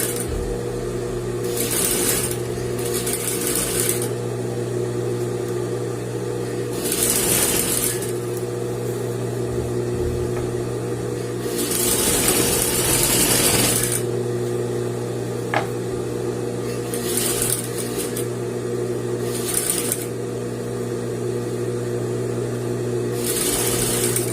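A sewing machine stitches the fabric of a princess-seam dress in several bursts, a mechanical whirring that starts and stops repeatedly with short pauses between runs over a steady background hum.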